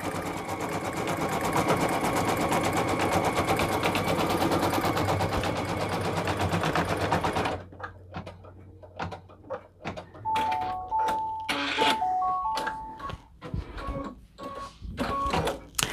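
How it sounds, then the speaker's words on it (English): A Brother VE2200 single-needle embroidery machine stitches a tack-down on a hat in a hat hoop with a loud, fast, steady rattle, which stops halfway through and is followed by scattered clicks and a few electronic beeps. "I'm gonna lower the pressure foot and hit start. And now it's gonna stitch the tack down."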